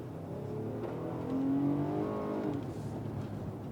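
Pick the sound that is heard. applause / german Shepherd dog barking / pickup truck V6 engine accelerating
pickup truck V6 engine accelerating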